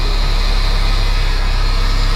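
The diesel engine of a 1987 Mack CF686FC fire truck idles with a loud, constant rumble and broadband roar that stays heavy and even throughout, close by and with no voices.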